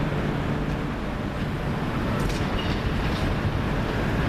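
Train rolling in around a bend to form the 11:50 service to Southend Central, a steady rumbling roar that holds at the same loudness throughout, with no talking over it.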